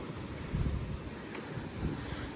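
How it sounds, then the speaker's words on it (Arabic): Cold, rainy winter wind buffets the microphone in a low, steady rumbling roar with gusty swells, fairly quiet and heard alone. "برد ورياح ومطر"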